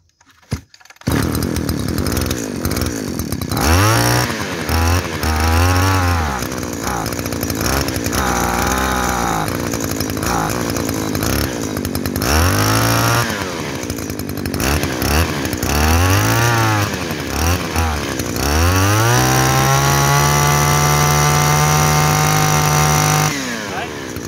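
A used Japanese brush cutter's small two-stroke engine runs close by, revving up and dropping back repeatedly in short bursts before holding a steady high whine at the end.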